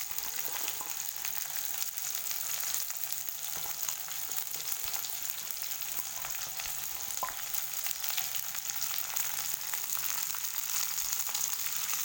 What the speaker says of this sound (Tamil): நீல வாக்கில் நறுக்கினா 4 வெங்காயம் சேர்க்குறேன்.